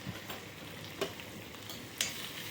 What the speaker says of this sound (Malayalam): ഞാൻ ഉള്ളി ഇട്ട് കൊടുക്കുവാണേ